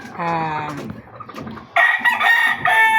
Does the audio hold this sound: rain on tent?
no